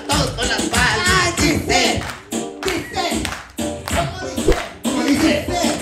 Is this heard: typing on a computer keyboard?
no